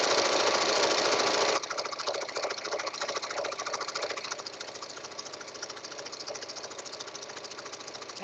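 Home sewing machine running a short stitch through fabric for a girl's dress sash while crossing a seam, a steady rapid mechanical whir close by that drops slightly in level after the first second and a half.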